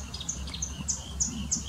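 Marsh or reed warbler singing, a series of short, high, repeated chirping phrases at a fairly even rhythm, faint and somewhat distant over quiet low background noise with no talking.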